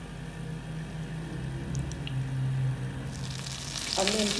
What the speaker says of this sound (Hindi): चलें अब मैं इसे फ्राई करूँगी।